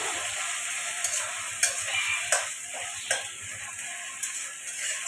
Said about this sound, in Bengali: খুব বেশি ভাজা নয়, বাট একটু তো ভাজতেই হবে